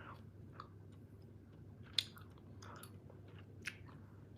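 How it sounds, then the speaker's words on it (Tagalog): A person chews food close to the microphone, producing faint, irregular crunchy bites over a low background hum. "parang pangit na lagi akong nguya"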